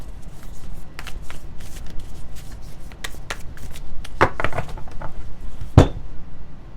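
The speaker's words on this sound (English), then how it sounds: "This is a weird circle deck, so I love it, but it is a little bit harder to shuffle, so bear with me here." A circular tarot deck being shuffled by hand, giving soft repeated riffling and card slaps up close, with a few sharper clacks near the end.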